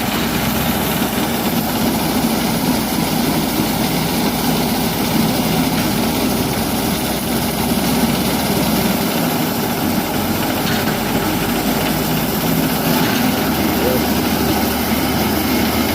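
A bus engine rumbles steadily as the bus begins moving slowly after being coated in mud and soil, a loud, constant low drone with little change throughout.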